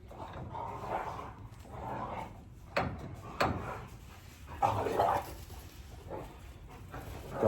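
Dogs kept indoors all day bark and whimper excitedly in a room, with rough barks coming in irregular bursts. Door or drawer knocks cut in occasionally.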